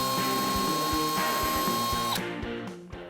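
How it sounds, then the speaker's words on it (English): Power drill boring a hole in a Jeep Wrangler JK factory grille: a steady whining motor with rhythmic knocks for about two seconds, then it winds down and stops, heard up close. "I'm going to drill this hole right here for the bottom pin."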